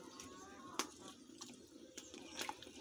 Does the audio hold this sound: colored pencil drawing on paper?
no